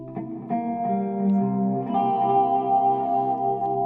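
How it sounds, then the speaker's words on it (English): A sustained guitar tone through a vibrato pedal in latching mode wobbles with a steady vibrato, its pitch wavering continuously at moderate loudness with no voices. "I can use this vibrato pedal on that latching mode to just wobble it"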